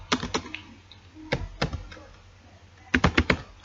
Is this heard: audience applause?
no